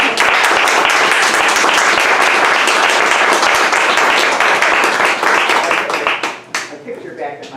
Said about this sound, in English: All right, how about a nice round of applause?